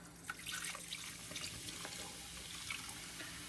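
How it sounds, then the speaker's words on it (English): Dr Pepper soda, about 12 ounces from a can, poured over skinless chicken thighs in a slow cooker, a steady liquid pour with splashing and light drips, fairly quiet and with no talking. "we're going to go ahead and add in 1 can of about 12 ounces of the Dr. Pepper"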